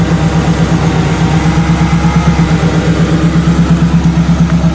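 A Subaru car engine idles steadily just after a cold start, a loud, close, even mechanical drone with a regular low pulse and faint high hiss, no voices over it.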